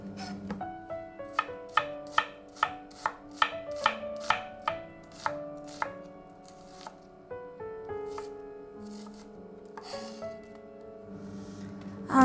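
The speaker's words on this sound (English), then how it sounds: "we are going to chop one medium sliced onion" A medium onion being chopped into thin slices on a cutting board, a fast even run of sharp knife knocks close by that slows and then gives way to softer scraping and shuffling.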